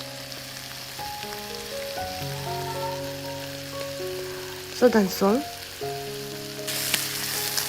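Chicken meat frying in oil, a soft crackling sizzle under a voice that talks briefly, with a louder burst of spattering near the end.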